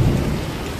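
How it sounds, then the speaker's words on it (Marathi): Heavy monsoon rain pours in Konkan during a thunderstorm with hail, a dense, loud, steady roar with a low rumble at the start, brief and without talk. "कोकणात पावसाचा जोरदार आगमन."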